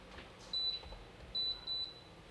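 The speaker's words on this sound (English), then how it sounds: "Oh, it's beeping." Three short, high electronic beeps from a kitchen appliance sound at uneven intervals against a quiet room background.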